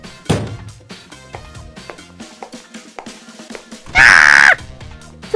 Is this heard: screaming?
yes